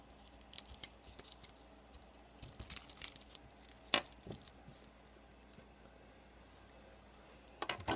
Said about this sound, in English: Put the loop through your keys like that